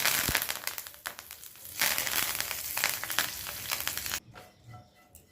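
Curry leaves, cumin and mustard seeds crackle and sputter in hot ghee, a quiet burst of close popping and spitting that gradually settles into softer sizzling.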